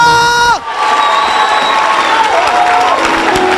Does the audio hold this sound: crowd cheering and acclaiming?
yes